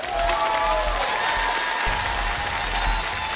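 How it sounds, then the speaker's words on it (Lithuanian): A studio audience on a children's TV singing talent show claps in sustained, even applause, loud and continuous, with a faint sustained tone running beneath. "Irgi plojimai tau."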